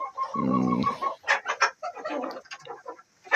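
Hens in a chicken coop heated by an infrared lamp, a mix of loud drawn-out calls and quick choppy clucks close by, with no talking.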